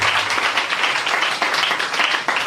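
Steady, loud applause from a large congregation at a prayer gathering, continuous dense clapping throughout with no pauses.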